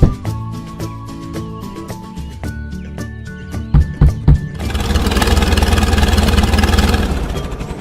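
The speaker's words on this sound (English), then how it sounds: "Tractor." A tractor engine cranks with a few sharp turnover bursts, then catches and runs in a loud, steady rumble, replacing the light children's music that plays beforehand.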